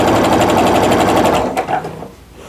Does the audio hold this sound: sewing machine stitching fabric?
yes